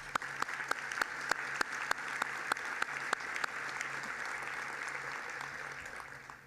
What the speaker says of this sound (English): So let's let all these folks have a big round of applause.